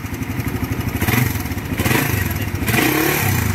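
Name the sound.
motorcycle engine running with ticking noise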